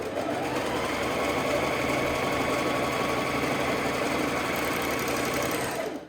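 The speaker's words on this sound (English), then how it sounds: "it's literally cutting the fabric at the same time as me running it through" An overlocker serger stitches and trims fabric with its built-in blade, a loud, steady rapid mechanical whirr running continuously and close up, then stopping abruptly at the end.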